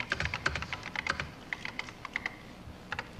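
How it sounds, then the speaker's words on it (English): Fingers type on an Apple Macintosh computer keyboard, with clicky keystrokes in quick bursts and short pauses, close and fairly quiet with no talking. "Now you type, no great feat."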